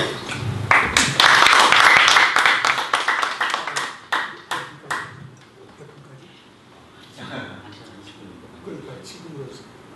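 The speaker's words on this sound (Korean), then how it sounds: "박수로 청해 듣도록 하겠습니다." An audience in a lay church academy lecture claps to welcome a lecturer, a loud burst of applause that thins into scattered individual claps and fades out, with talk afterward.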